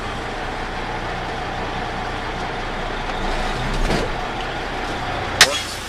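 A semi-truck tractor with trailer idles steadily during a pre-trip brake test at a truck driving school, a low continuous engine rumble with a brief swell near the middle and a sharp short hiss or clank near the end, a voice talking over it.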